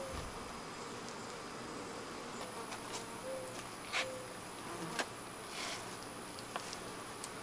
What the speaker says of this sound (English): there's a lot of bees in here